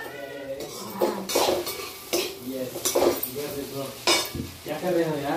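Vegetables are cooked in a home kitchen pan, with metal utensils clattering against cookware and a soft sizzle of frying, all close by under some faint voices.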